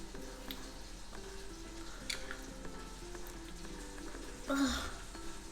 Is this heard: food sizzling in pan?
yes